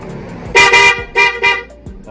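A Suzuki Raider 150 FI motorcycle's second horn, part of a dual-contact horn setup, honks twice in quick pairs, four short bright blasts up close, with engine rumble underneath.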